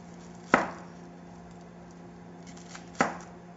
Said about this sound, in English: we're going to be cutting up 1 onion